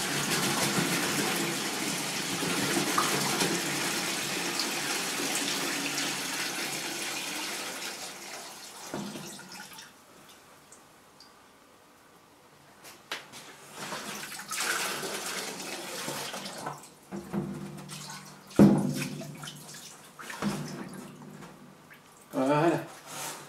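Liquid gushes steadily from a tap into an 80-litre workshop fountain tank, loud and continuous for several seconds before cutting off, followed by quieter clunks, drips and handling sounds.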